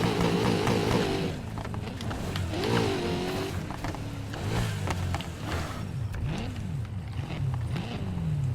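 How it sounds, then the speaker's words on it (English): A Corvette races in the video game Need for Speed Heat, its engine droning and revving continuously with rising and falling pitch sweeps as it shifts through gears, loud and up front with no talking. "I'm going to go over here and do my favorite race"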